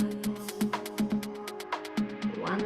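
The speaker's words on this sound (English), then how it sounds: "Taking out my highs would sound like this" A DJ track plays with its high end rolled off, giving a muffled, steady beat of pulsing hits over held tones with a rising swell near the end, and no one talking.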